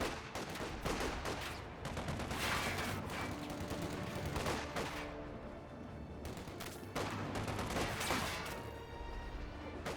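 Dense rifle and machine-gun fire rattles through a Company of Heroes 2 battle, with rapid overlapping bursts and sharp cracks coming in waves over a continuous din of combat, loud and without any voices.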